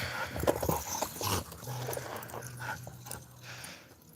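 Puppy noises outdoors in a garden, with faint whimpers, yips and pattering amid steady background rustle and hum, over a few seconds.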